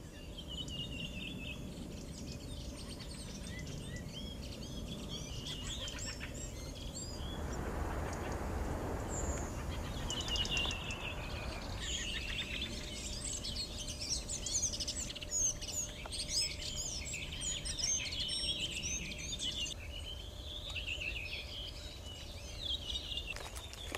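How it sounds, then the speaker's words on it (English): Wild birds chirp and call around caged live decoy birds at a bird-trapping site in France. The tweets come in scattered bursts over a steady, faint background, with a stretch of broadband rustling in the middle. "Birds are attracted to this place by other live birds in cages"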